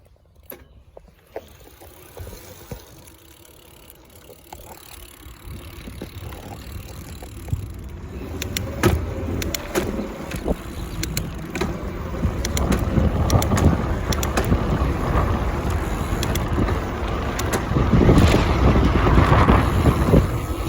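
A DIY electric bike picking up speed: wind roar buffets the microphone and builds steadily from moderate to loud, with a faint rising drive whine and scattered clicks and rattles underneath and no talking.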